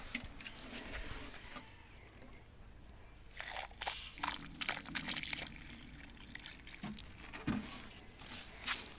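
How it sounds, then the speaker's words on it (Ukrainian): Water is poured from a watering can into garden soil around peonies, a soft, close splashing and trickling with gritty crackles that swells and eases over several seconds, with no voices. "І заливаю, просто водою заллю з лійки."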